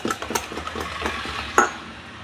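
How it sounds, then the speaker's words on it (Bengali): A whisk stirs semolina and mango cake batter in a bowl, giving quick, rhythmic scraping strokes, close and moderately loud, with a sharper clink near the end and no talk. "সোঁটাটাকে দিয়েও একটু নাড়াবো।"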